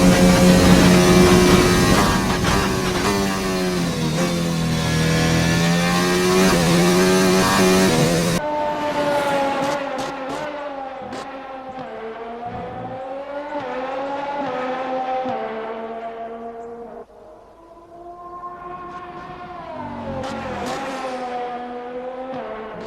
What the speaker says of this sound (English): the Renaults actually do not sound bad